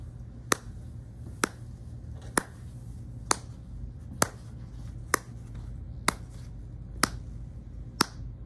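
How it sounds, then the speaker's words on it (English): Nine sharp single claps ring out at an even, unhurried pace, each one crisp and isolated against a low steady hum. "So I'm going to clap again."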